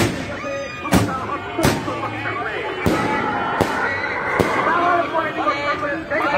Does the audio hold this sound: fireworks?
yes